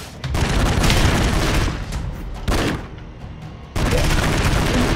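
Broforce gunfire comes in loud, dense bursts of rapid shots and booming blasts, with short breaks between them and a heavy barrage at the end.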